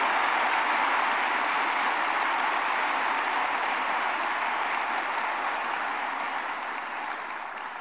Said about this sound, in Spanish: les pido un fuerte aplauso para nuestros hermanos de Corea que están el día de hoy aquí